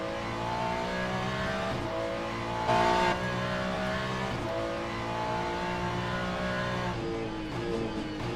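An LMGT3 race car in Le Mans Ultimate, its engine loud and close, revving up and down through gear changes, with a brief tire squeal along the way.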